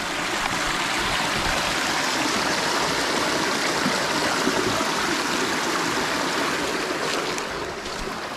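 Water from a natural spring flows steadily nearby, a continuous full rushing and babbling sound with no breaks and no voices.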